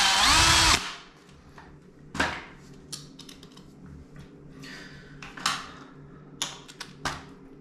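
A power drill backs screws out of a drain cover in a loud, close whining burst at the start. Then come scattered clicks and clinks as the screws and the metal cover are handled. No one speaks.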